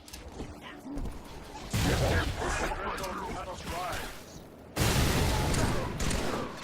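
Video game gunfire from Halo 3, with bursts of shooting in a battle against many enemies, loud and dense and coming in two heavy waves over background game noise and talk.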